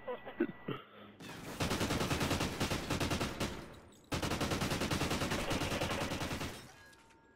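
Rapid automatic gunfire in a multiplayer shooter match, two long sustained bursts of fast rattling shots, loud and close, separated by a brief pause, with a short blip of other game noise before the first burst.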